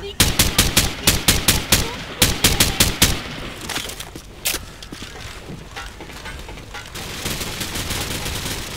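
Video game gunfire in Call of Duty: rapid bursts of automatic weapon fire for about three seconds, then scattered single shots and a sharp distant crack over a busy background of battle noise, close and loud.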